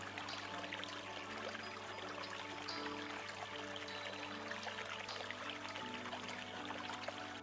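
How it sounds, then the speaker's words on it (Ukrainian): Spring meltwater streams trickle and gurgle steadily, a continuous fairly quiet babble of running water with no voices. "Особливо дзвенять дзюркотливі струмочки."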